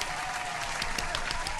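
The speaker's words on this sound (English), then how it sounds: "get a clap for that" A short burst of dense, steady clapping from a studio audience on a fashion call-in talk show, sounding close and continuous for its whole length.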